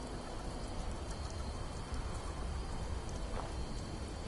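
Steady rain in the video game Fallout 76, a continuous broadband hiss of falling drops that holds at an even level throughout with no talk over it.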